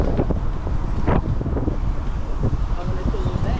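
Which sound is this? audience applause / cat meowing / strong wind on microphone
strong wind on microphone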